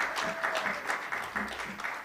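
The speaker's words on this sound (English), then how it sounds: "please come through as we clap our last hands for Dr." Audience members at an African information and communication rights conference applaud for Dr. Mare, a brief patter of scattered hands clapping at moderate distance in a large hall.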